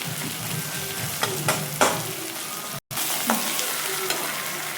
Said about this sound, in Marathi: त्याच्यापासून तेलात शिजायला पाहिजे टमाटा